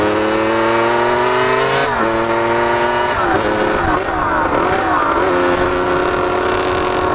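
Loud motorcycle engine running steadily throughout a ride, with pitch rising and dipping through gear changes and throttle shifts, filling the clip without any talk.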